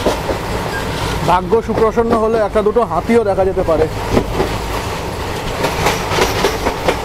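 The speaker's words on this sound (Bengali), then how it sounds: "দেখুন এবার কিন্তু পুরো ঘন জঙ্গলের মধ্যে দিয়ে ট্রেনটা যাচ্ছে" The Kanchan Kanya Express, train 13149, runs through dense forest with a steady rumble and rhythmic wheel clatter, while someone talks over it throughout.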